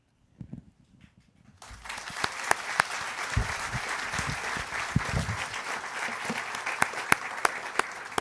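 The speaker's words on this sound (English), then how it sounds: "let's give one more round of applause to Dr. Duncan Andrade and Justin Steele." Near-silence gives way after a second or two to a full round of steady applause from an education summit's plenary audience after the conference speakers, with a few sharper claps standing out.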